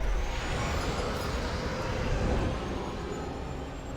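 A starfighter throttles up and launches out of its hangar in the Star Wars: Squadrons game. A steady, loud engine roar rushes throughout, heard alone and easing slightly toward the end.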